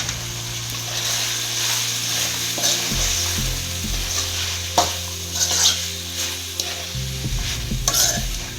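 Spicy chicken gravy sizzles steadily in a pan while a spoon stirs and scrapes through it, with a continuous fry hiss and occasional clinks, close and alone.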